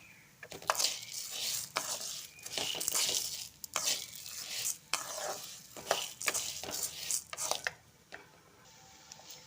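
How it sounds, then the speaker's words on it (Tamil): Chana dal and black urad dal dry roasting in a pan, stirred steadily with a spoon for a spice powder, giving close scraping and rattling of grains against the metal in an irregular rhythm. "ரெண்டையும் சேர்த்து நல்லா செவர வறுத்துக்கலாம்."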